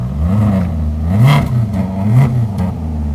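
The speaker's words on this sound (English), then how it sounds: "Give you some revs with it closed." A 2018 Maserati GranTurismo MC engine revs up and down three times with the exhaust closed, in smooth, rising and falling swells, close and fairly muffled, with no talk.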